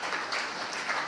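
An audience applauds at a talk, a dense, steady patter of clapping heard a little distant and continuing evenly throughout.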